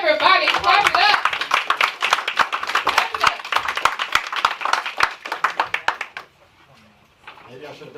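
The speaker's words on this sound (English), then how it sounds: "come on up, introduce yourself, everybody, clap it up." A small audience at a podcasting event claps for someone coming up to speak, a close, sharp patter of hands that fades after about six seconds into quiet, with a voice talking at the start.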